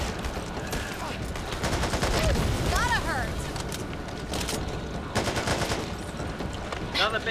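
Rapid gunfire in Back 4 Blood, with dense bursts of automatic shots running throughout amid other game effects and people talking.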